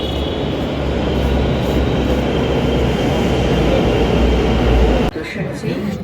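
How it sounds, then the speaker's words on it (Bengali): A metro train pulls in at Salt Lake station in Kolkata with a loud, sustained rumble and rail roar for about five seconds, then cuts off abruptly. A voice may be faintly audible under the noise. "আর অলরেডি মেট্রো চলেও এলো আমাদের"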